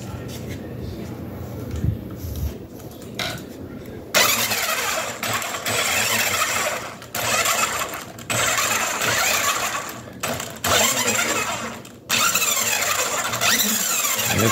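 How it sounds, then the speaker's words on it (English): An Axial Wraith RC rock crawler, fitted with a belt drive transmission, runs with a steady mechanical whir that rises and drops in bursts. Someone talks over it. "I also put a belt drive transmission in this thing that really makes it quiet"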